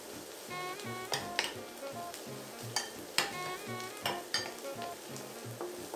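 Garlic sizzling in a pan as it is stirred while cooking a seafood spaghetti with clams, with a steady frying hiss broken by sharp scrapes and clinks of a utensil against the pan, no talking.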